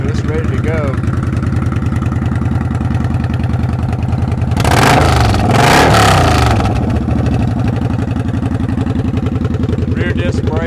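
A used 2007 Kawasaki Vulcan 900 VN900B motorcycle idles with a steady, loud, even engine rumble and gets one brief rev partway through, while someone talks over it.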